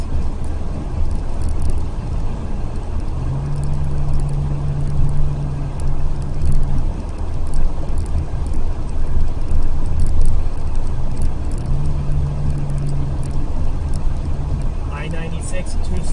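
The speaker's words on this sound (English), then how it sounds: "A lot of fun driving on 696" A car cruising on the I-696 interstate highway near Troy and Southfield, Michigan, with steady road and engine rumble throughout and a faint tonal hum partway through, under a continuous traffic wash with no talk.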